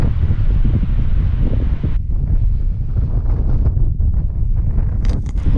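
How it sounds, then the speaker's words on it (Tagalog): Strong wind buffets the microphone atop the peak of Mount Sembrano, a loud continuous rumbling roar that gusts and eases without pause. "Ang lakas ng hangin dito."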